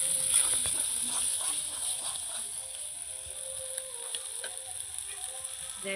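Spice paste for fish curry sizzles steadily in a pan as it is sautéed, a soft, continuous hiss with faint stirring scrapes, fairly quiet and close.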